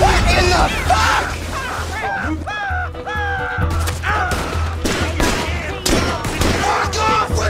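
Video game gunfire crackles in loud bursts amid a chaotic shootout, mixed with shouting voices and cawing, crow-like calls throughout.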